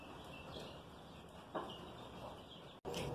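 Chickens clucking near a coop on a small farm: a few soft clucks and short calls, quiet and close, over low background noise with a brief cutout near the end.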